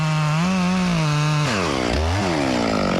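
Chainsaw trimming the flares off the base of a black walnut tree, a loud close engine whine holding steady before dropping and revving back up as the chain bites into the wood, with no talk.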